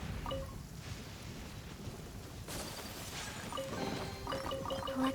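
Steady rain patters throughout a stormy scene in the Genshin Impact video game, with a low rumble of thunder building midway and faint musical chimes near the end.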